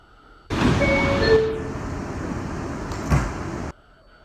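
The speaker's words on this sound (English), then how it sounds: "Stand clear of the closing doors, please." An R179 J subway train's doors slide shut with a loud rushing, clattering motion that ends in a firm thump, followed by quieter car hum.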